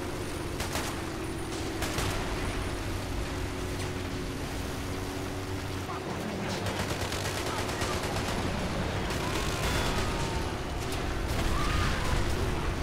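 Dense, continuous gunfire rattles around a tank in a RobZ Realism Mod battle, sustained automatic bursts and distant impacts blending into a steady roar over an engine hum.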